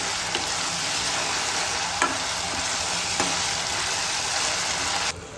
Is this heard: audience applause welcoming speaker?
no